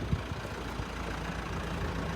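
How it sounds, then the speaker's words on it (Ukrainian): A Renault Megane 4 engine idling with a low, steady rumble, faint and continuous with no voices. "Двигунчик працює"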